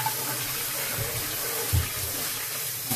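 Running tap water rinses out a bowl before fish go in, a steady broadband splash with a brief louder gush near the middle, close and alone.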